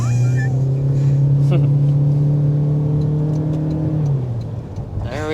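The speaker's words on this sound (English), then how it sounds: "let's go ahead and start with a hard acceleration" A 2023 Toyota Corolla Cross Hybrid accelerates hard, its engine note rising in a loud, steady drone with strong harmonics that climb then drop off near the end, heard from inside the cabin without talk over it.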